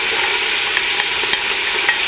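Onions sizzle steadily in melted butter in a pan over medium heat, a continuous close hiss with occasional soft pops and stirring ticks, no voices.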